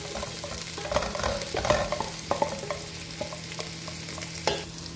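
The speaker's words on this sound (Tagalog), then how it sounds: "pagsasabayin ko na itong sibuyas at bawang. Halu-haluin lang natin." Onion and garlic are stirred and fried together in a pan, with a constant sizzle under intermittent scraping and clacking stir strokes, close and fairly loud, no talking.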